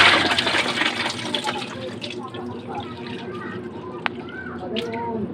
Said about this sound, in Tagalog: huhugasan natin yung chicken natin